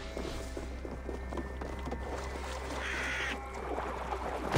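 Crows caw in Assassin's Creed Valhalla amid a low ambient game soundscape, the calls fairly faint and scattered over a steady rumble, with a brief brighter burst near the end.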